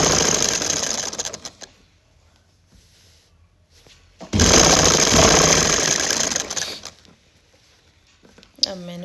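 An electric sewing machine stitching a kurta runs in two loud, steady whirring bursts separated by a quiet pause, with a brief voice heard near the end.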